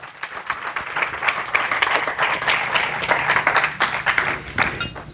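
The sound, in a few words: church congregation applauding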